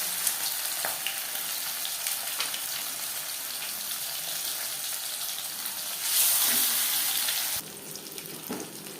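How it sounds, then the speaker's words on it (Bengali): Fish frying in hot oil on a medium flame, a steady bright sizzle that holds throughout and swells louder for a moment near the end, with no talk. "হাই ফ্লেমে তেল আমি গরম করে নিয়েছি মাছ ভাজবো মিডিয়াম ফ্লেমে"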